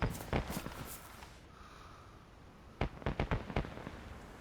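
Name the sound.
fireworks set off in the video game DayZ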